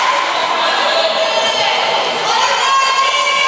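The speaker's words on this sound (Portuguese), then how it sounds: "A torcida grita." Spectators at a men's goalball final in the São Paulo cup, SESI against APADV, cheer and shout steadily and loudly as a large, continuous crowd roar with no pauses.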